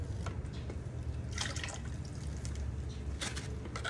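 Water drips and trickles in short, splashy bursts close by, irregular and fairly faint, over a low steady background hum.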